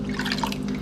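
Warm milk poured from a measuring cup through a funnel while making homemade yogurt, a steady close trickling and dripping of liquid running alone without pause.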